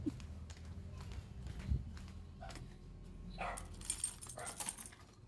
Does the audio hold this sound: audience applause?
no